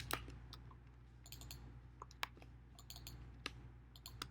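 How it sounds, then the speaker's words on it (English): Quick mouse double-clicks and light computer keyboard typing at a desk, a few sharp isolated clicks spaced irregularly over a steady low hum, quiet and close. "For the text, just double click it and then type in Niagara"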